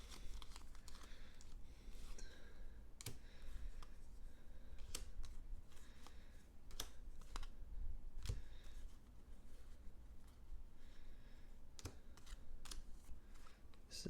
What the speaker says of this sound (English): shuffle these decks again, as we're out of cards here